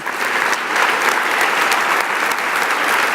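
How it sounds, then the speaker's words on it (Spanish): Sustained applause from a church congregation clapping for God, a dense, steady wash of many hands that stays loud and close throughout. "Y ahora dele otro aplauso a Dios con todo su corazón."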